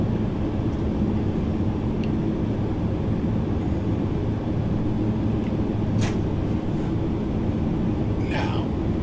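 Steady, loud drone of an ATR72-500 turboprop's engines during approach in the Prepar3D V5 flight simulator, a constant low roar with a few faint clicks over it.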